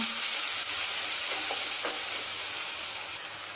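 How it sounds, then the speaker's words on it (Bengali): Ground spices (turmeric, dry chilli powder, Kashmiri chilli powder) sizzle steadily in a hot pan after a splash of water, a constant close hiss with faint stirring clicks and no talk. "সামান্য একটু জল দেব মশলাটা কষানোর জন্য"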